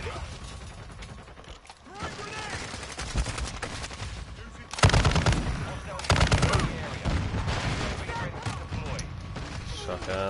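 Shotgun fire in Call of Duty MWII, several blasts and overlapping bursts of gunfire with mechanical clacks, the heaviest volleys coming about halfway through, with a voice talking at times.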